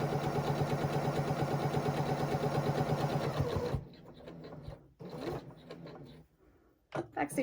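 A sewing machine stitches a microwave rice heat pack in a fast, steady mechanical run for several seconds, then stops, followed by quieter handling noises and brief bursts of renewed activity.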